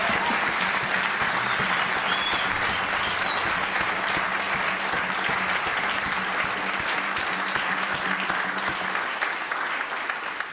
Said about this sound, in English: So please give a warm round of applause for Tijn Wybenga.